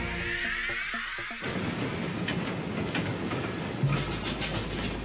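A night express train runs on rails, a steady rumbling roar with faint rhythmic clatter, heard from on board and without voices; a brief tonal hum fades at the start.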